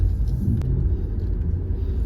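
A car rolls up and parks at a temple, its engine producing a steady low rumble throughout, with a short click partway through.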